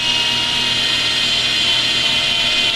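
A steady high-pitched whir of a drill-mounted soft sanding pad with 260-grit paper grinding against welded metal, constant and close throughout.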